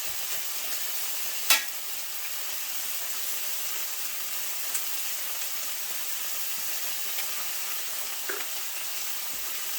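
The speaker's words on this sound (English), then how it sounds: "I'm going to let my vegetables cook up a little bit before I add in the tomatoes" Steady, even sizzle of vegetables cooking in an oiled pan for a pork chop dish, a soft continuous hiss with a few faint clinks, no talk.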